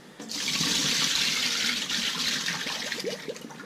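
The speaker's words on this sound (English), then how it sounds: "gave it one last rinse" Tap water runs steadily over fish being rinsed in a sink, a loud close rushing splash that holds for a few seconds, with slight splatters as the flow is disturbed.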